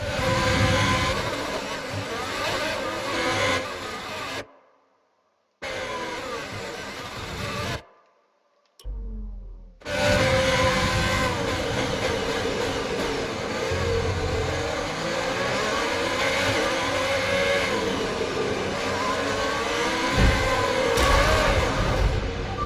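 A race car engine in F1 2020 drones loudly and continuously, its pitch rising and falling with revs, broken by two brief dropouts to silence.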